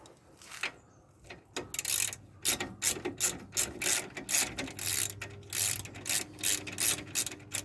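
A ratchet wrench loosens an 11/16 sway bar nut on a full-size Jeep Grand Wagoneer, giving rapid bursts of close, sharp clicking in a repeated back-and-forth rhythm.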